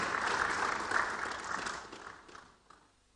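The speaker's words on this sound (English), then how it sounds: "big round of applause?" An audience at a foundational learning event breaks into a warm round of applause to welcome guests, loud at first and then tapering off into a few scattered claps.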